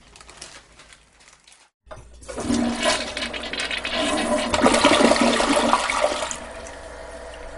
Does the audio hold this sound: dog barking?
no